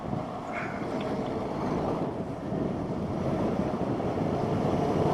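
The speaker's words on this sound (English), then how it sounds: "very windy, isn't it?" Steady, heavy wind buffets the microphone on a ride in Perth, in a continuous low roar with no pauses, loud and close throughout.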